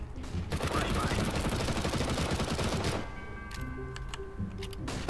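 Gunfire in the video game CS:GO comes as a dense, loud stretch of rapid automatic shots, then sparser bursts along with game tones. Voices talk over it.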